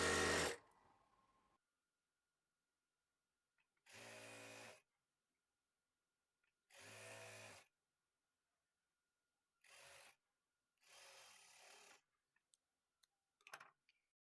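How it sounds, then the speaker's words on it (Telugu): Sewing machine stitching thread piping on cloth, heard as five short runs of close, steady mechanical whirring. Quiet gaps separate the runs, and a few soft ticks follow near the end. "మనం ఇలా స్టిచ్ చేసుకునేటప్పుడు క్లాత్ని కొంచెం ఇలా లాగినట్లుగా పట్టుకుంటూ స్టిచ్ చేసుకోవాలి"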